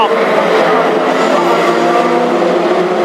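Classic hot rods race close together around an oval track, a loud continuous engine roar with layered revving tones, heard steadily throughout.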